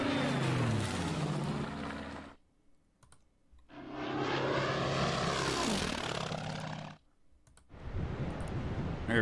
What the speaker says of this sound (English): Torpedo planes are going to get there.